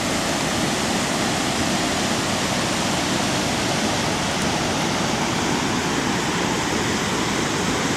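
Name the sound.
Ingleton Falls waterfall after heavy rain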